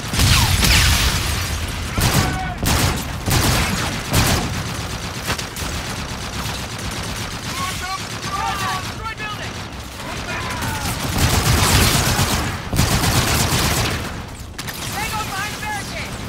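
Rapid gunfire and grenade explosions in the first-person shooter Call of Duty: Infinite Warfare, loud repeated bursts and booms over continuous battle noise, with a player talking over the action.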